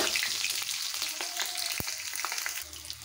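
Bay leaf, green chili and panch phoron hit hot oil with a steady, close, bright sizzle and a few soft pops, with no talking.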